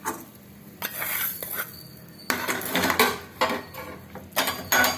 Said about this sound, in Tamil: ஒரு வாட்டி நல்லா கிளறி கொடுத்துருங்க.